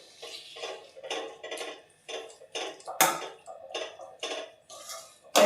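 A spoon stirring and pressing cut chikoo halwa in a pan over low heat, giving a series of soft scraping and squishing strokes in an uneven rhythm, close and moderately quiet, with a sharper clank near the middle and the end.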